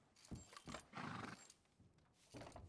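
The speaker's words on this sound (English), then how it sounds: "there's a horse in the bank" A horse inside a bank in a Red Dead roleplay game gives faint, brief neighs and snorts in a few separate bursts with hoof clatter between, quiet and somewhat distant.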